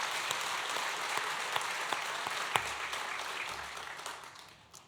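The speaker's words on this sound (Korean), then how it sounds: "우리 하나님께 영광의 박수 드리겠습니다." A church congregation applauds together during a Korean dedication thanksgiving service, a dense, steady wash of many hands clapping that fades toward the end.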